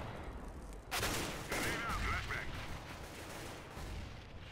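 CS:GO gunfire arrives as a dense, muffled rattle of shots that rises abruptly and then settles into a steadier, quieter stretch, with game voices faint underneath.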